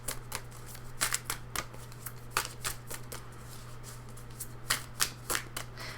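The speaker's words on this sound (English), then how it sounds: "if you get tired of hearing me shuffle, go ahead and skip forward" Cards riffled and shuffled close up in repeated quick bursts, each a crisp papery flutter, with soft tapping between and a steady low hum underneath.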